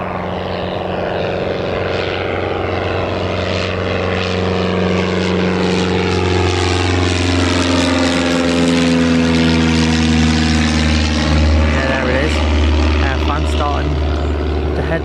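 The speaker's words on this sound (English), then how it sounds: "Yes, Air France is actually on the move." Air France airliner taxiing at Newcastle Airport, a loud continuous engine roar with shifting whine and drone as it moves, heard close with people talking over it throughout.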